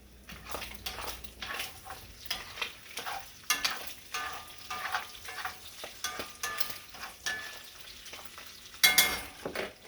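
Sausage frying in a pan for biscuits and gravy, a steady close sizzle broken by repeated scraping and stirring of a utensil against the pan, without voices.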